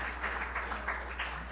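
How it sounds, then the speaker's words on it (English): Audience applause at a live talk with music in Carmel, a steady wash of clapping from many hands over a low constant hum, moderately loud and unbroken. "that deserves an applause"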